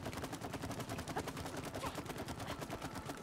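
Rapid gunfire in the co-op video game It Takes Two, a fast steady stream of quiet shots firing in continuous bursts for several seconds.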